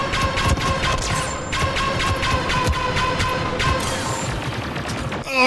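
Jango Fett's blaster fires in Star Wars Battlefront 2 with an expanded mod, a rapid stream of loud, sharp shots over dense battle noise, with faint ringing tones behind the bursts.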